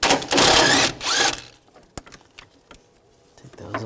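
A ratchet with a 15mm socket works the transmission mount nuts on a 2013-2019 Ford Escape 2.0L, two loud bursts of rapid clicking followed by scattered softer clicks and clunks.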